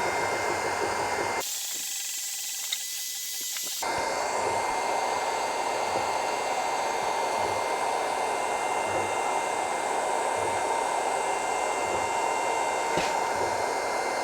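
A LONGER Ray 5 20 watt laser engraver runs at steady volume, its fan giving a constant whirring hiss with a faint soft pulse. About two seconds in, the noise briefly shifts and drops before resuming. No speech.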